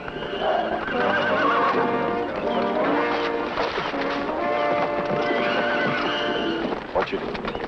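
Several horses whinny and neigh in an outdoor scene from the 1954 film White Huntress, with hoof clip-clops and shouting voices mixed into a busy, continuous commotion.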